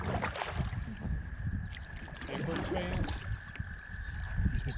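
Kayak paddle strokes dip and splash on the calm water of French Creek in Pennsylvania, a steady soft wash of water and light wind noise running close to the microphone throughout.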